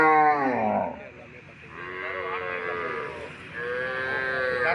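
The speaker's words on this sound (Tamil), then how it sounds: "நாட்டு மாடு மட்டும்தான்" Native cattle mooing at a rural Tamil Nadu cattle market, several long drawn-out moos from nearby animals following one another with short gaps between calls.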